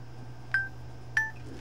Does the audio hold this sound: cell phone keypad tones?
yes